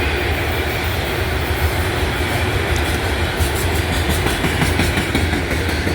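A freight train passes close by with a loud, continuous rolling rumble and faint rhythmic clickety-clack of wagons over the rails, steady throughout with no voices.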